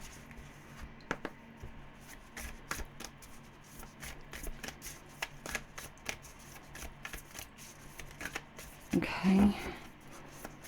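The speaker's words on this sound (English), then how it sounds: "It's a very awkward deck to shuffle." A tarot deck of very thick, stiff cardstock is shuffled by hand in irregular crisp riffles and slaps, ending in a louder burst of card flicks, with a brief spoken word early on.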